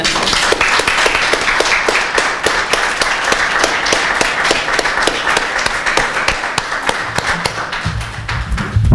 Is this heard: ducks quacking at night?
no